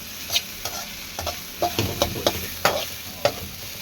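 Okra stir-fry, vendakkai poriyal, sizzles in a pan while a spatula scrapes and taps in irregular strokes over a low frying hiss, close and clear.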